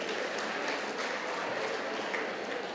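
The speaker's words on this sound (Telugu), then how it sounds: "జక్కరావు గారికి ఒకసారి గట్టి క్లాప్స్ కొడతాం ఫ్రెండ్స్" A crowd at a rally in Dhone claps hard for an honoured guest, a dense, steady wash of hands that stays loud and even for the whole stretch.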